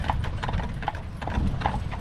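Horses around 12 and 15 years old pull an Amish buggy through Pennsylvania countryside, their hooves clip-clopping in a steady, close, continuous rhythm with road and wheel noise underneath.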